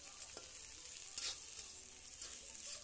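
Capsicum with cardamom and cloves fries in a pan for fried rice, giving a soft, quiet sizzle with occasional scraping knocks as the pieces are stirred, no talking.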